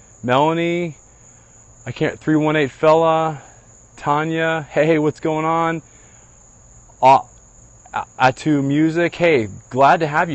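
Crickets chirp outdoors at night, a steady, thin high trill running continuously beneath someone talking in short bursts.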